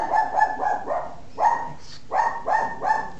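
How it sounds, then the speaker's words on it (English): A dog barks close by in a quick run of several sharp woofs, two early, a single one mid-clip and three more near the end, with no talk over them. "Excuse, that's my dog."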